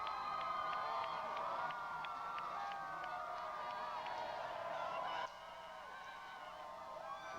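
Big crowds cheer on the 2008 presidential election night, a dense roar of shouting and whistles with a siren-like wail running through it, heavy for several seconds before dropping to a quieter murmur.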